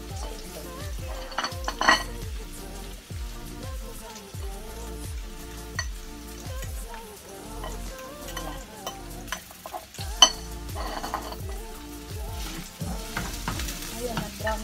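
Onion frying in a pan, browning before garlic is added, gives a steady sizzle under repeated scraping and stirring strokes with a utensil, and occasional light clinks of metal on the pan. No one speaks.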